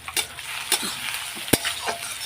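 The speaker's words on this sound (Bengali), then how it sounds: "তা পেঁয়াজটা লাল লাল করে আগে ভেজে নিই" Onions frying in a pan for egg curry, a steady sizzle broken by a few sharp scrapes and clinks of a spoon stirring, close and fairly loud with no talking.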